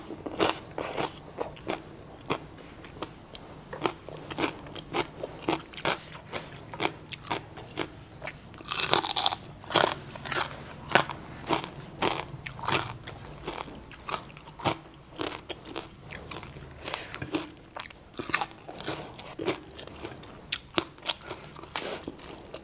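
Crispy deep-fried pork belly eaten with a spicy green papaya salad, giving many loud close crunches and bites in an irregular rhythm, with no talking.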